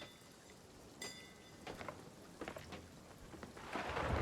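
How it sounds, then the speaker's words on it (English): Rain and rolling thunder from a stormy video game scene, a steady wash of rainfall with several thunder rumbles and cracks swelling to a louder burst at the end, no talking. "God, this storm's loud."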